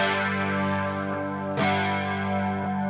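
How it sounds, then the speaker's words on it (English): An electric guitar runs through a chorus effect on a Line 6 Helix set to high depth and low rate, giving a sustained, shimmering wash of held notes with one fresh strum partway through. "So with chorus, I tend to prefer higher depth, lower rate."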